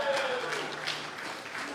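Crowd clapping at a Pakatan Harapan political rally in Malaysia, a diffuse spread of hands heard somewhat distant and soft, with a voice over a loudspeaker mixed in.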